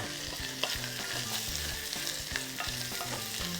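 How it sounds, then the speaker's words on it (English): Lobster shells roasting in butter in a pan, a dense crackling sizzle with occasional pops and soft stirring scrapes, close and continuous with no one speaking. "Let the butter roast the lobster shell."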